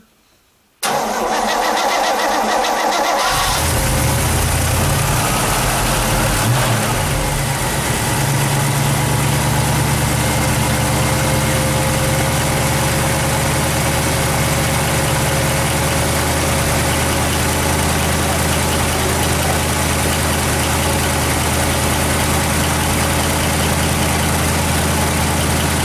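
A 1967 Pontiac Firebird with a carburetted 326 V8 cranks briefly and fires on a cold start, then settles into a loud, steady, rumbling idle that runs on unbroken, with no talking.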